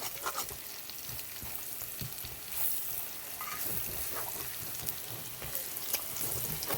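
Duck meat with onions and spices fries in a pan, giving a steady, close sizzle with occasional stirring scrapes throughout, and no voices.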